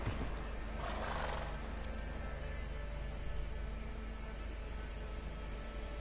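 Roach the horse neighing in a PS4 video game, a whinny early on over a steady noisy game background, followed by continuous ambient rumble and no speech.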